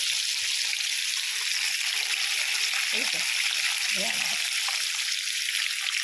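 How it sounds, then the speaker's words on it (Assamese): Steady hissing sizzle of fish frying in hot oil, constant and bright, with a few soft low bumps and faint voice-like sounds underneath. "3 পিচকৈ ভাজি লওঁ ধুনীয়াকৈ"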